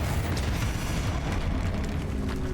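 A Confringo fire spell goes off in the game Hogwarts Legacy, giving a low, rumbling blast that carries a sustained, heavy boom with some crackle over a short stretch, with no voices.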